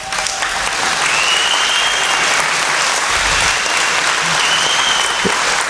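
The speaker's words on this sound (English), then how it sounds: "These people they're clapping, and they don't even know why they're clapping yet." Loud, sustained applause at an elementary school moving-up ceremony, with a large audience clapping continuously throughout, a few faint voices and whistles mixed into the dense sound of the crowd.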